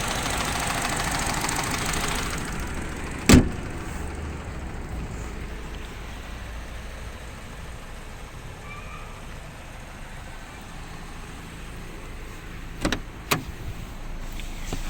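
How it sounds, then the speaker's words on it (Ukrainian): A Peugeot 207 SW engine idles steadily with the air-conditioning compressor running, a low, even hum broken by a few sharp clicks and knocks. "також от вже працює компресор кондиціонера"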